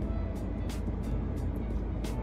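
Steady low road rumble inside a moving car, a constant muffled hum with faint periodic hiss bursts, no voices.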